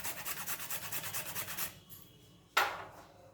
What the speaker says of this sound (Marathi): थोडंसं जायफळ किसून घालायचं आहे